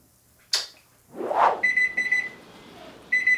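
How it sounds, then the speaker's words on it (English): A kitchen timer goes off while pasta boils: a sharp knock and a rustle come first, then the timer rings in repeated bright beeping bursts, fairly close and moderately loud. "Alright, there's our timer. There's the timer."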